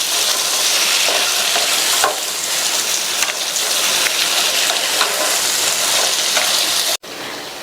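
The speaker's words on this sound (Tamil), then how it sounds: "இப்போ இந்த மசாலாவோடு சேர்த்து நல்லா பிரட்டி விட்டுக்கலாம்." Cut potato chunks being tossed into frying masala for a potato kaara curry, with a steady loud sizzle and stirring scrapes throughout and a sharp clatter near the end.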